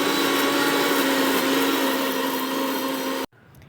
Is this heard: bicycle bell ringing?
no